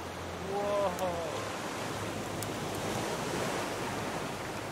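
Rough ocean waves in the survival game Raft wash in a steady, dense roar throughout, with a brief tonal chirping sound near the start.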